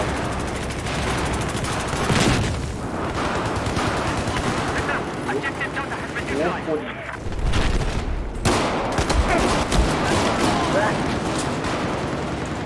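Dense video-game gunfire in Battlefield 4, with rapid automatic bursts and scattered shots running almost continuously at high volume, one brief lull near the middle, and a speaking voice mixed in.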